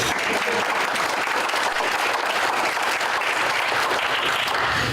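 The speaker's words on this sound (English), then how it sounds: "You can clap for Rick if you want to" Steady, dense applause from an audience at an economic innovation and opportunity summit, continuous and even throughout without any talking over it.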